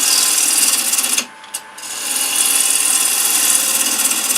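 Steady rasping of a hand tool rounding a wooden tenon, loud and close, briefly pausing for a moment before the scraping resumes and continues evenly.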